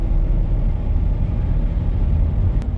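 Honda Odyssey van accelerating, heard from inside as a steady low engine and road rumble that holds level throughout.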